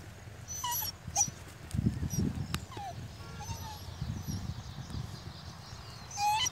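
A puppy whimpers and gives short high yips close by, in scattered bursts over quiet outdoor background, with some soft human voice in between.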